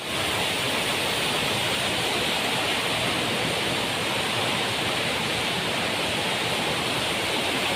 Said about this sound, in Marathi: भाई रस्त्यामध्ये पाणी आहे